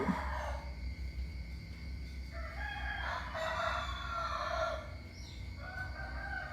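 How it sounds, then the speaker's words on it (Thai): A rooster crows in the early morning in a long, drawn-out call over a constant low background hum, sounding somewhat distant. "เสียงไก่ดังมากค่ะ"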